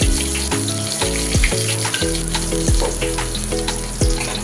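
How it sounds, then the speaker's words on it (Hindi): Oil tempering sizzles loudly in a pan while a ridge gourd vegetable dish is cooked, a constant hiss with clinking and tonal clatter of utensils throughout and no talking. "तो बस इसको काट लिया था और मैं लगा रही तड़का, सब्ज़ी बना रही थी।"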